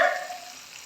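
A short burst of sizzling from pangas fish frying in a pan, loud at first then settling into a steady hiss.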